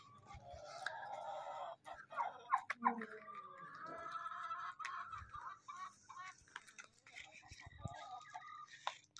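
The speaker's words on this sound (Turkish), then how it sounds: "Annem 3 tane daha tavuk aldı." Backyard chickens clucking close by in winter, several birds making irregular overlapping clucks and short calls, fairly quiet overall.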